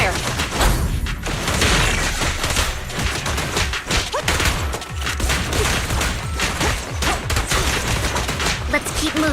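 Sustained gunfire rattles through a battle in Zenless Zone Zero, with dense, loud volleys of shots, thumps and impacts coming nonstop across the whole stretch.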